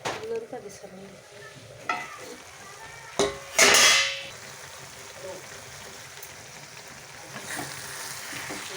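Cauliflower sautéing in a pan while being stirred, a gentle ongoing sizzle broken by a few sharp scrapes and clatters of the spatula against the pan, close by.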